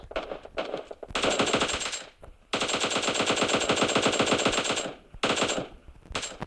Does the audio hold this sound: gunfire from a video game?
yes